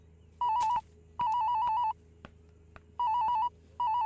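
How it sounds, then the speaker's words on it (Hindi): A phone ringtone chirps in four repeated bursts of warbling electronic trill, separated by short pauses, fairly close and clear with no talk over it. "तेरा फोन बज रहा है, फोन उठा।"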